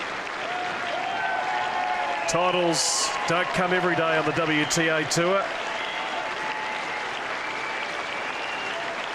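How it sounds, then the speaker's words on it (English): A tennis crowd at the Hobart women's tour final stands and applauds as the champion wins, with steady, fairly distant clapping lasting the whole moment while a commentator speaks over the middle of it. "As the crowd stands and applauds"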